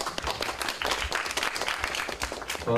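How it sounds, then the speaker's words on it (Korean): A room full of people clapping steadily, a dense patter of applause lasting a few seconds. "박수"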